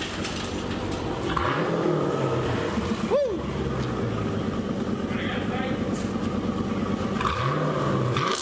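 A Jeep SRT with a Corsa Extreme exhaust rumbles loudly nearby, with engine revs climbing and falling several times over a steady deep drone, and voices talk over it.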